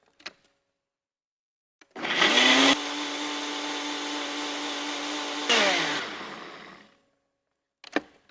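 A kitchen blender purees a chile marinade for oven-baked chicken al pastor, a loud steady whir of about five seconds that shifts pitch midway as the load changes, with brief knocks before and after.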